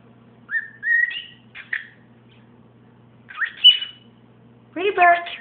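A pet bird whistles a few short rising notes, pauses, whistles again, then ends with a harsh, buzzy squawk, all close and fairly loud over a low hum.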